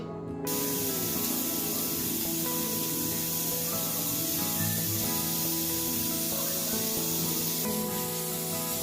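A pressure cooker vents steam through its whistle while brewing tea with knotted tea leaves, a loud, steady hiss lasting throughout with no talking.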